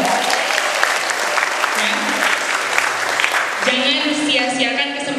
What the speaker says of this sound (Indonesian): Tepuk tangan buat teman-teman dong.